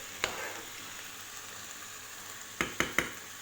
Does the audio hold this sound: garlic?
yes